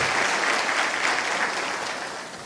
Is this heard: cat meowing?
no